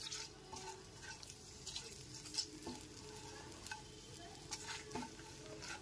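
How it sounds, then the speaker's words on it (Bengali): A tempering of asafoetida and a dried red chilli fries in oil over a low gas flame, giving a soft, steady sizzle with occasional stirring scrapes, quiet and close, with no speech. "গ্যাসের ফ্লেমটা লোতে রেখে ফোড়নটা হালকা করে ভেজে নিতে হবে।"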